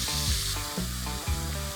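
Onion paste ground fairly smooth frying in hot ghee in a pan turned up high for a chicken pathia curry, with a dense, loud sizzling hiss close by, pulsing in short repeated surges.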